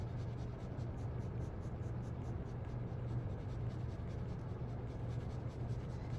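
Pen and ink hatching for shading, the nib scratching steadily across paper in a continuous soft, close-up rasp with quick repeated strokes.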